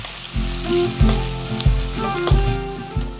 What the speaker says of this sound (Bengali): এরপরে আঁচটা একটু বাড়িয়ে কোচানো পেঁয়াজ ভাজতে দিচ্ছি।